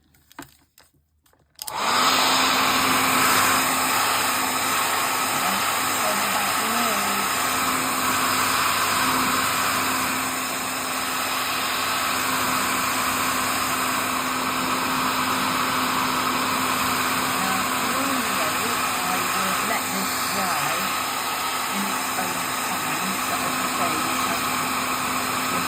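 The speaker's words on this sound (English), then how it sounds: "I'm actually just going to throw a quick blast over this with the hairdryer" A hairdryer blows steadily over a watercolor painting of dandelions, a loud continuous whir with a faint hum that starts after a brief quiet moment and runs nearly unchanged to the end.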